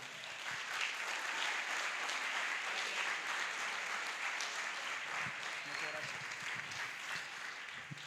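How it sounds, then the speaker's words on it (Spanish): An audience applauds to welcome Dr. Pablo Muñoz Iturrieta onstage at a talk in Culiacán, a sustained dense wash of clapping lasting about eight seconds at moderate volume. "les invito a que recibamos con un fuerte aplauso al doctor"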